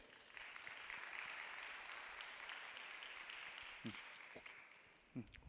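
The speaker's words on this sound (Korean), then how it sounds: "박수로 환영할게요." Distant applause from a church congregation at a Sunday youth worship service, welcoming a young member forward; a steady, soft wash of clapping that runs through the clip before thinning out near the end.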